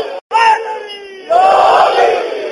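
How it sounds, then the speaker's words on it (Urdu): A crowd raises the Shia religious slogan Nara-e-Haidari in unison during a Muharram majlis gathering, two loud surging shouts of many voices, the second swelling and sustained. "یہ لگاتے ہیں نعرہ حیدری, اس پاک نعرے کی گونج میں"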